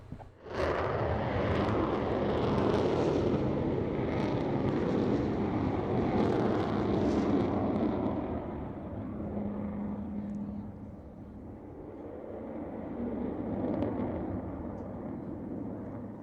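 Avro Vulcan bomber at an airshow, its jet engines producing a loud, sustained broadband roar that holds steady, then eases slightly and swells again, with no talk over it.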